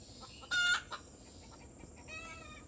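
Chickens at a rural yard, stirred up after a fox took a laying hen in the rain, give a sudden loud squawk followed by fainter clucking calls over steady background noise.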